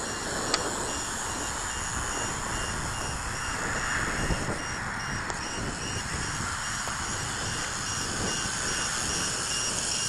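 A Kai Deng K70C drone's low-voltage cutoff alarm repeats in faint, evenly spaced high beeps over steady wind and outdoor hiss, heard at a distance for about ten seconds.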